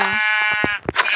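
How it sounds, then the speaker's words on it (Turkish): A sheep in the video game Minecraft lets out a loud, close, wavering bleat, followed by a few short clipped sounds and a brief second burst. "bana bir tane koyun lazım"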